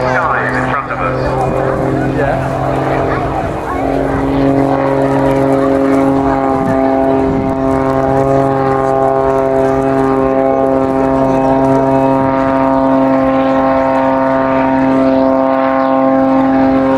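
A propeller aircraft in a Union flag colour scheme flies its display at the RNAS Yeovilton airshow, a loud, steady droning hum with sustained engine tones that holds without a break throughout.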